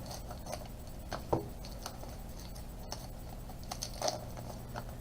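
Scissors snip and scrape through tape on a mail package, with a few soft cuts and rubbing scratches spread irregularly over faint background hiss, close but quiet.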